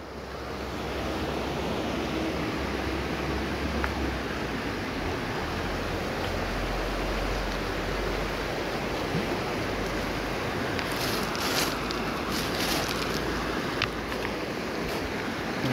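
A river current rushes and churns in a steady, loud wash of broadband water noise that fills the whole stretch, close by and unbroken, with a few brief splashes near the end.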